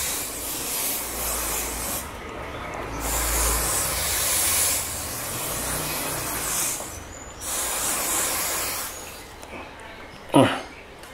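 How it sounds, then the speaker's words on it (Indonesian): Gatsby spray pomade sprays onto hair in several long hissing bursts separated by short pauses, close and fairly soft, ending with a brief handling bump. "Oke, langsung aja kita semprot ke rambut."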